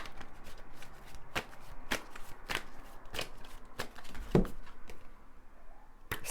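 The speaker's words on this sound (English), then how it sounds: "So now I'm just going to shuffle these tarot cards" A deck of tarot cards is shuffled by hand, a series of crisp riffling snaps and soft slaps repeating at an irregular pace, fairly close and quiet with no talking.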